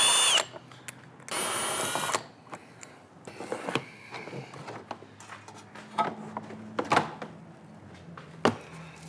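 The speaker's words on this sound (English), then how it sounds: "And there's two 12mm bolts you need to remove." A power tool spins out two 12mm bolts on the intake of a 2015-2021 Subaru WRX with an FA20 engine. Two loud whirring bursts are followed by scattered clicks, clanks and handling noises close by.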